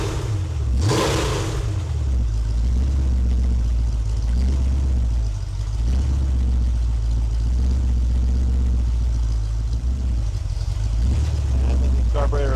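A freshly rebuilt Ford 302 V8 on its first break-in run, running with a light flywheel, idles and revs steadily and loud and close with a deep throbbing rumble throughout, with a brief sharper burst near the start.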